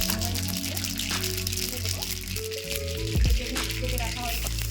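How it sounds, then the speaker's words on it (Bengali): Mustard seeds and dried red chili spluttering and crackling in hot oil during tempering for idli, a busy close sizzle with popping, under a voice. "সর্ষেটা ফুটিয়ে দেবো"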